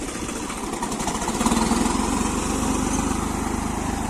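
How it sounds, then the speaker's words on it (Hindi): A tractor engine chugs steadily at close range, a rough continuous rattling drone with no voices over it. "ट्रैक्टर इतना चलता रहेगा"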